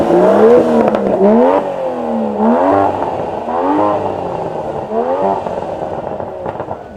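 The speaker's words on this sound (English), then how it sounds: "dropping it into neutral to give us a few blips and hear that V12 sing" Aston Martin DBS V12 engine revved in neutral at a supercar event, a series of loud rising and falling blips close by, each swelling and dropping back before the next, with no talk.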